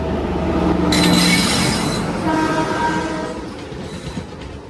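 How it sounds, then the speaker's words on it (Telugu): Mumbai–Bhubaneswar Konark Express passing close by, a loud horn blast and squealing wheels over rushing rail noise that swells early and then slowly fades as the train moves on. "ముంబై భువనేశ్వర్ కోనార్క్ ఎక్స్ప్రెస్"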